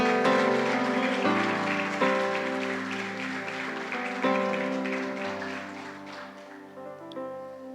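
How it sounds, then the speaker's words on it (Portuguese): A church congregation claps steadily during a worship service beneath loud, sustained organ-like music chords. "Você pode aplaudir o nome de Jesus?"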